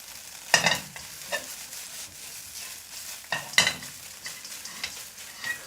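An egg fries in a pan, a soft sizzle underneath a few sharp scraping clatters of a utensil against the pan, spaced a few seconds apart.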